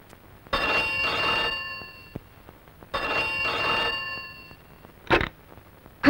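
A telephone rings in two long electronic bursts separated by a pause, fairly close and clear, with a brief clatter afterward and no talking.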